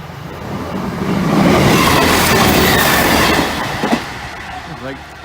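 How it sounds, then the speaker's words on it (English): A train passes a level crossing with its barriers lowered, a loud rumbling rush of wheels that swells to a peak and then fades, with a sharp clack and faint voices near the end. "And as train 2 now passes our protecting signal, the barriers have been down for over 6 minutes."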